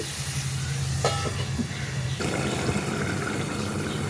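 Water poured into a cooking pot of potatoes and soya, a steady rushing splash that holds for several seconds, close and fairly loud, with no talking.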